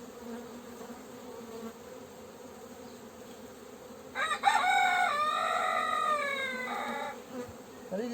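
Honeybees hum in a steady, close drone at an apiary during a hive inspection in early April, while a rooster crows loudly partway through.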